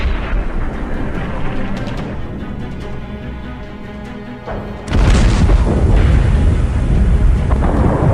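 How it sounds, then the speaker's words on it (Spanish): Heavy artillery fire from the Falklands War rolls as a continuous deep rumbling barrage, then swells into a louder, denser burst of booms partway through. "La artillería pesada, si bien no es muy eficaz, impacta en el ánimo y la moral del soldado."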